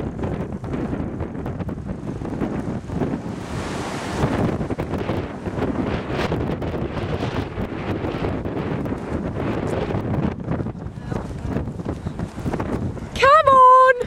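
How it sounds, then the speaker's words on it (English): Strong wind buffets the microphone outdoors at the finish of a marathon run through France, a steady broadband roar that runs throughout, with people talking and cheering over it. "But as you can hear, very, very, very windy."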